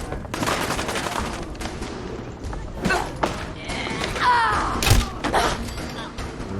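In Fallout 4, a raider fires rockets amid rapid gunfire, with bursts of shots, heavy thuds and explosive booms crowding one another at close range through the whole stretch.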